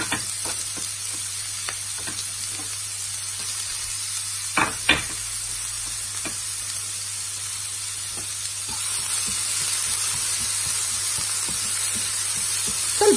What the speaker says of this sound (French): Mes oignons sont prêts, sont bien frits.